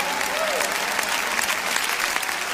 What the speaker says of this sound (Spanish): Pueden levantar más fuerte ese aplauso al Señor.